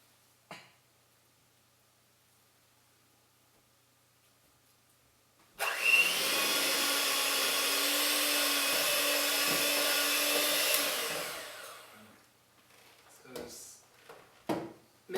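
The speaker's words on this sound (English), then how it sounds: "Mix it until the banana is no longer a hard shape." Ripe bananas are mashed in a bowl with pumpkin pie mix for pumpkin banana cookies, a loud, steady whir of an electric mixer running for several seconds, bracketed by clatter and knocks before and after.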